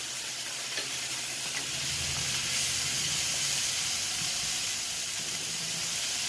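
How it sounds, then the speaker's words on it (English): Vegetables for a shrimp stir-fry sizzle loudly in a hot pan as they are stirred, a dense continuous hiss of steam and frying with soft scraping underneath. "Now we're gonna give them a few stir."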